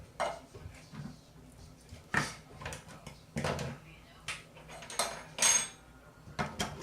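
Canned corn tipped from a can into a casserole pan while a shredded cow tongue hotdish is assembled, a string of metallic clanks and scraping thumps at an uneven pace, close by.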